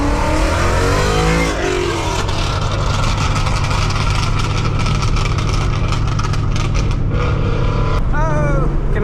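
A loud Ford Mustang engine revs hard and roars on a Detroit street, a thick steady rumble that fills the whole stretch, with a few short rising whines near the end.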